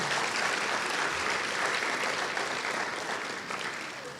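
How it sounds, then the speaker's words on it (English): Sustained applause from an audience at a Martin Luther King Jr. Day celebration, honoring the recipient of a humanitarian award, a dense steady wash of clapping that tapers slightly toward the end. "Please give her a round of applause."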